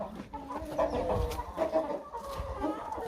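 Several chickens cluck and squawk in agitated, overlapping bursts, a close, busy flurry of hen calls with scuffling underneath.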